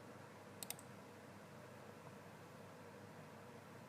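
Two quick mouse clicks close together, faint and near, over a steady low hum from a computer during VMware Workstation virtual machine setup.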